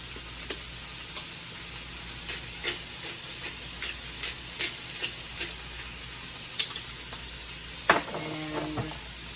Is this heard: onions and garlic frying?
yes